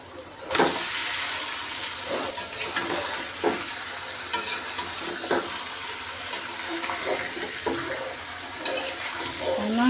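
Chicken meat is dropped into hot oil with cinnamon, bay leaf, cumin and onion for pilau, giving a steady close sizzle and frying hiss, with scattered stirring scrapes and clatters.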